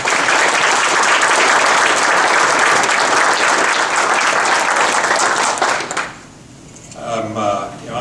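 Audience applause at an Iowa golf gathering, a dense, loud wash of clapping that holds steady for about six seconds, then stops abruptly as a voice begins speaking.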